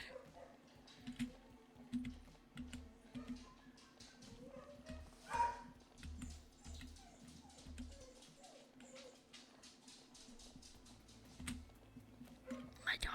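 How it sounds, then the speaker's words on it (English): A dog barking and whimpering faintly in a home behind game audio, with short scattered yips and barks under a steady background. "My dog scared me."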